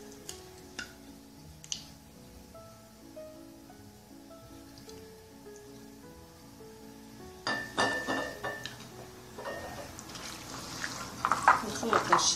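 Liver is mixed with oil and spices in a bowl for Moroccan liver skewers. Sparse faint clinks come first, then a busier stretch of utensil clinking and scraping against the bowl in the second half, with music underneath.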